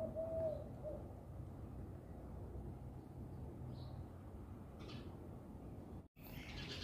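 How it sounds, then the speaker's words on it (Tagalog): Pigeons or doves cooing at an outdoor feeding spot, a soft low murmur running steadily through ambient background noise, with a brief higher call near the start. "tingnan nyo yung mga ibon doon. Naglagay na ako ng mga pagkain."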